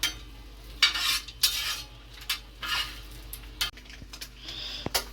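Eggs frying on a tawa being turned over for a tawa egg masala, with repeated metal scrapes and clinks of a turner on the pan over a soft background sizzle.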